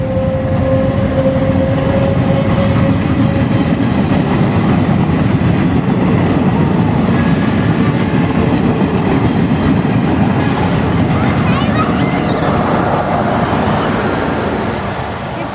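A train rumbles past steadily and loud for the whole stretch, with a broad low roar and a faint tonal whine early on, rising slightly in hiss near the end.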